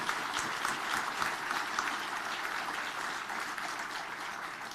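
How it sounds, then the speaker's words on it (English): A conference audience breaks into sustained applause, a fairly soft, uniform wash of many hands clapping at a distance with no voices over it. "I want to ask you to applaud the work of Mayor Ras Baraka."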